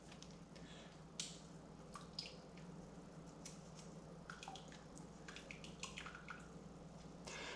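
Brewed tea bags squeezed out by hand over a pot of tea for kombucha, giving faint, close drips and wet squelching splashes scattered over a quiet background, with no talking.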